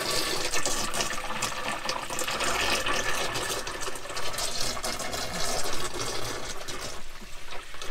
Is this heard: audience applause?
no